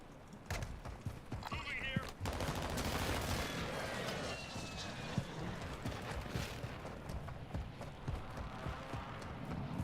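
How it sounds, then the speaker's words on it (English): An airstrike with gunfire in a multiplayer shooter video game, a dense, rumbling barrage of rapid impacts and cracks throughout, mixed with game audio and muffled voices. "Hostile airstrike near your location."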